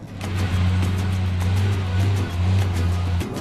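Buggyra Dakar race truck with a nearly 1000-horsepower engine, a loud steady low engine drone heard from inside the cab, rising and dipping slightly as the truck moves, with no talk.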